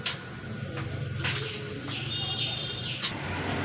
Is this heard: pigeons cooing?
yes